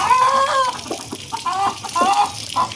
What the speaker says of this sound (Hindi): आपकी मुर्गी को गर्मी लग रही है। आप देख रहे हो, आवाज़ें निकालेंगी, ज़ोर ज़ोर से सांस लेंगी